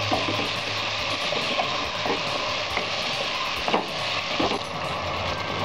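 Diced potatoes frying in a pan for pav bhaji give off a steady, close sizzle with a few scraping stir clicks, continuous and without talk.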